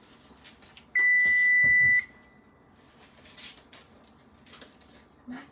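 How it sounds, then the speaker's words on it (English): A kitchen oven finished preheating to 350 gives one steady electronic beep about a second long, clear and close, among quiet kitchen clatter, with someone talking softly. "My oven just beeped to let me know that it's good."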